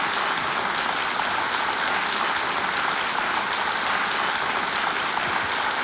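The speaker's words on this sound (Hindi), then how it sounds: "बच्चों की तालियां।" Children clapping in a TV quiz show studio, a dense, even wash of applause holding steady and loud throughout.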